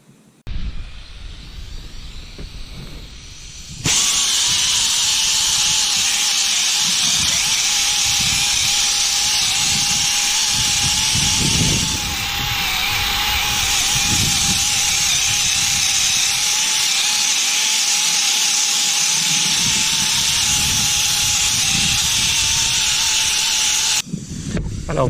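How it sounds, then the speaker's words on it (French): A pneumatic screwdriver fitted with a rotary brush, bought at Lidl and driven by an air compressor, hisses in a loud steady air rush for about twenty seconds while cleaning stone joints, with a short dip partway through. "avec le système de la brosse rotative là, sur une visseuse pneumatique, achetée chez Lidl, on voit qu'on a un résultat rapide"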